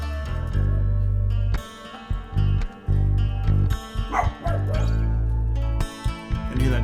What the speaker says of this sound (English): Can hear that dog barking.